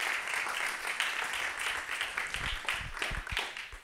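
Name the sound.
audience applause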